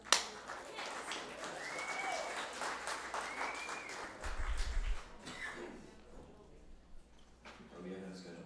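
Applause from a live audience of about sixty at a coffee-themed meetup runs steadily at moderate loudness, with voices talking over it and cheering.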